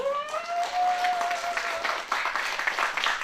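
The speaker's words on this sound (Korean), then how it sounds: "박수 소리 한번 들어볼게요" Audience applause breaks out at a live show where a performer sings while playing the janggu and buk drums, a dense burst of clapping that follows a rising cheer or whoop and holds steady throughout.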